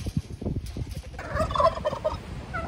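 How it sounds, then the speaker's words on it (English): Turkeys gobble outdoors, a loud rapid burst of bubbling gobbles in the second half after a stretch of low rumbling noise. "we're out here with the turkeys"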